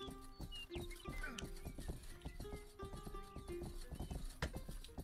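Horse hooves clip-clop in a steady trotting rhythm in the video game Rustler, close and clear with a brief whinny-like snort, over a soft game backdrop.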